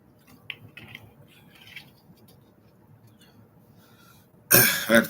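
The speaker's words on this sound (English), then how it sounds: "I had to clear my throat." A short, harsh throat clearing close to the microphone, a loud rasping burst near the end after quiet, faint background rustling.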